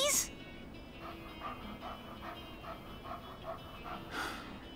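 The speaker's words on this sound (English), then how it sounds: "Oh, can we have the puppy?" A stray puppy in the video game Life is Strange 2 whimpers and pants softly under game music, with a sharp yip near the start and another near the end.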